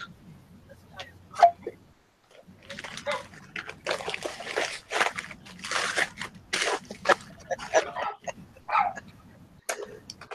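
Dog whimpering with a few short yelps, moderately close, mixed with splashing and sloshing noises in short bursts and brief pauses.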